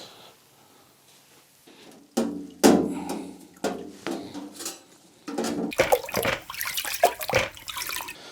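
Water runs and splashes while parts are rinsed after an ultrasonic cleaner, with intermittent bursts of flowing liquid and handling clatter, close and moderately loud, growing busier toward the end, with no talk.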